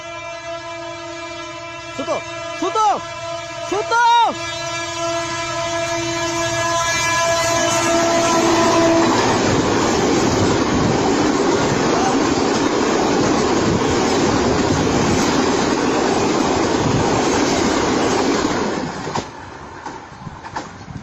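A train approaches with a loud, rising horn blast, two bending honks followed by a sustained tone, then thunders past at close range in a steady broadband roar of wheels and rail for about ten seconds before it begins to fade.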